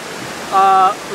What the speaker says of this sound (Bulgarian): Зад нас има едно малко водопадче, което е част от поредица от може би 28 водопада.